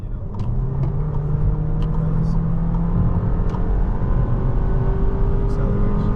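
A 2026 Volkswagen Tiguan Turbo accelerating, heard from inside the cabin as a steady low engine drone with rising tonal whine and road rumble, continuous and moderately loud throughout.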